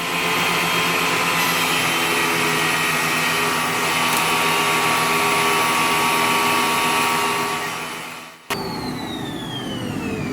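A thickness planer with fold-up infeed and outfeed table extensions runs with a loud, steady whining roar for about eight seconds, then briefly dips and resumes with a slightly changed tone.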